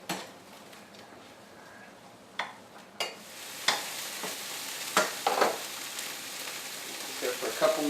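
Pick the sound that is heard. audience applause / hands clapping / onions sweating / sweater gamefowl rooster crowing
onions sweating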